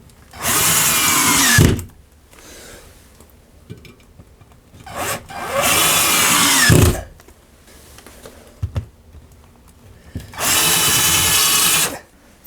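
Power drill driving screws into a bracket: three loud, sustained whirring runs of about two seconds each, close by, separated by quiet pauses with light handling knocks.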